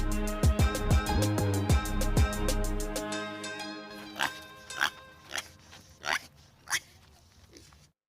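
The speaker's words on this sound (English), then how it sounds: "Pig." A pig grunts and oinks several times, starting with a run of low, rhythmic snorts and then shifting to a handful of short, sharper squeals spaced apart, close and fairly loud over faint background music.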